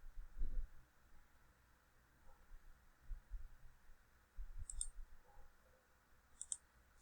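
Arrow keys on a computer keyboard are tapped in a quiet room, a few soft, sparse clicks spread over several seconds above a low background hum.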